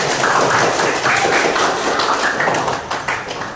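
A school class claps their hands in a dense, sustained burst of many overlapping claps that stays loud and even before tapering slightly at the end.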